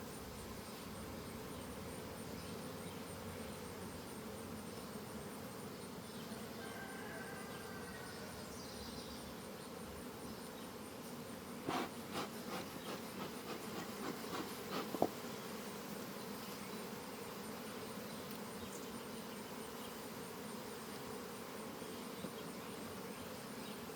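Honeybees hum steadily around a newly set up colony, a faint continuous buzz at a distance, broken near the middle by a brief cluster of clicks and knocks from handling the hive.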